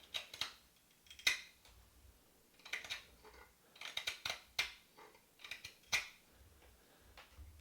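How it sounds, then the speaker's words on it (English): Hook knife blade dragged across the top of a wooden spoon, giving a series of short, quiet scraping strokes in an irregular rhythm, close up and alone. "I'm just dragging the blade right across the top of the spoon."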